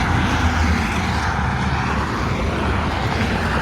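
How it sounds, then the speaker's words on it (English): Loud, steady roadside traffic rushes past at close range, with cars driving by in a continuous broadband roar that never drops to quiet. "Look how quiet it is right now because no cars are going past. Oh, here they come, and it's gonna be super loud."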